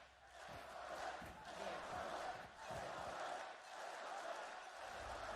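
An esports crowd at a Valorant match between FPX and Paper Rex roars and cheers in swelling waves, loud and sustained, with a caster's voice partly underneath.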